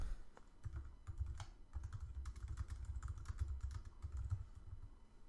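Typing on a computer keyboard: quick irregular bursts of soft, close key clicks.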